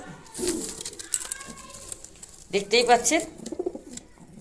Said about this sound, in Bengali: দেখুন এটা গোল্ডেন কবুতর